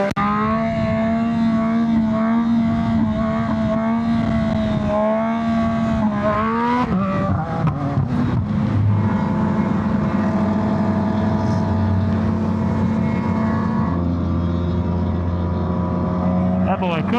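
A large group ride of fifty-plus motorcycles cruises a highway, engines droning steadily with shifting pitch as bikes pass and change gear, a dense continuous roar with wind rush and occasional voices underneath.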